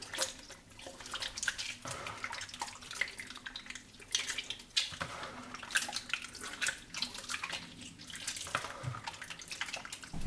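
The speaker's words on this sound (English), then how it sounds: "Squeeze it tight to remove remaining juice." Soursop fruit pulp is squeezed by hand to press out juice, giving intermittent wet squelches and drips in a quiet room.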